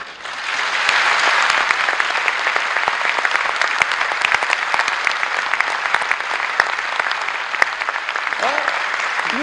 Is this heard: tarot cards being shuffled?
no